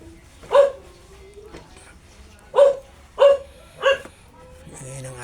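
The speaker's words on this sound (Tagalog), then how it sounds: "Ayan ang aso guys." A dog barks in four sharp, separate barks close by, spaced unevenly over a few seconds against a quiet background.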